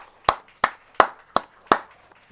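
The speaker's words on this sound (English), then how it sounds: "An enormous applause for the Lamb." Five sharp, evenly spaced claps ring out alone in a quiet room at a religious gathering, each a distinct crisp hit with a short decay.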